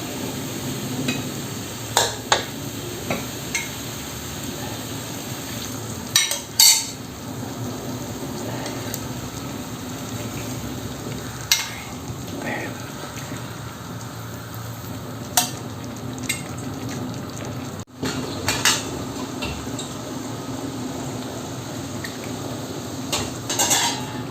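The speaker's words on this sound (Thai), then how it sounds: "ผัดให้เข้ากัน" Santol curry with shrimp being stir-fried in a pan, with a spatula scraping and clinking against the metal over a low steady sizzle, with occasional sharper knocks, and no talking.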